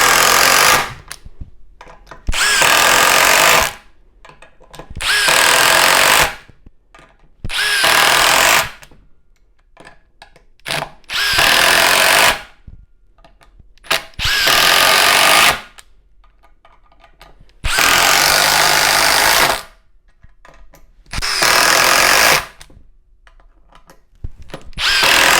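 A standard impact driver hammers loudly in repeated bursts of about one to two seconds, roughly eight of them, separated by short silences, rattling like a small jackhammer.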